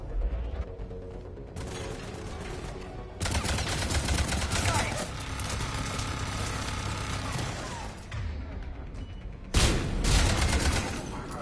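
Gunfire and heavy Carnage blasts hit turrets during a Mass Effect Legendary Edition firefight against Cerberus; loud bursts of rapid shots and booming impacts come in waves, with brief lulls and a sharp blast near the end.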